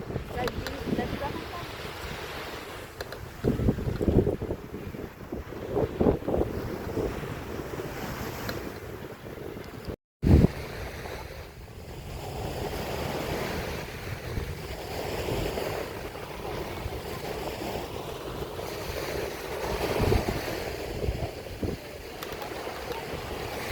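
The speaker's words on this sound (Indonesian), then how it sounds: "Wah, suara ombaknya." Ocean waves breaking on Jumeirah beach in Dubai, a broad rushing surf mixed with strong wind buffeting the microphone, with a brief dropout midway and a few voices faintly in the background.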